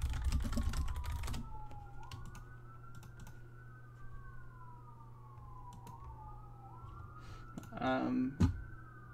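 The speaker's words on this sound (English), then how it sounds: "I could hear the police sirens outside." A police siren wails faintly outside in the distance, its pitch rising and falling in slow sweeps, with keyboard typing and clicks close by over a steady hum.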